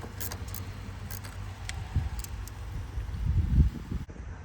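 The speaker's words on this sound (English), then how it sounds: "I'm just gonna take off our negative battery terminal with a 10mm" A 10mm wrench works the negative battery terminal on a 2014+ Mercedes CLA45 AMG, giving light metallic clicks and jingles near the start, then low handling thumps and knocks close by.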